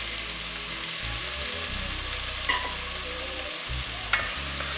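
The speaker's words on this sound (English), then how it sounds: "and saute the carrot as well" Chopped carrots and onion sauté in a hot pan for baked lasagne, a constant close frying hiss broken by a couple of light utensil scrapes as they are stirred.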